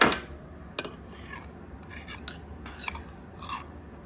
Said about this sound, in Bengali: আজকে পাটায় বেটে নিলাম মিষ্টি কুমড়োটা